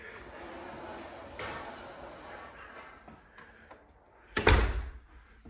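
The front door of a Carmel Valley house with a stained glass window, opened as people walk in, giving one solid thud and rattle near the end, close by, after a stretch of quiet outdoor ambience.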